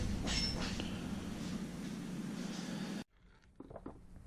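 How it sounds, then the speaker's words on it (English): A steady whirring, rumbling hum of a steel NTN crankshaft bearing for a Stihl MS 660 chainsaw clone spinning fast, loud and close, cutting off abruptly into quieter faint clicks. "I think this bearing seems to spin faster, but it also sounds noisier."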